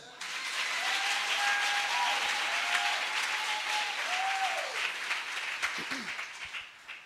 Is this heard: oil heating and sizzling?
no